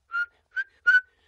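Three short, clear whistled notes in quick succession, close and fairly quiet, with no other sound.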